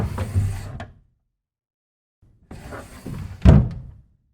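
A desk drawer in an office being closed, first a short sliding rustle, then after a pause a longer slide ending in a solid thunk, heard alone and fairly close.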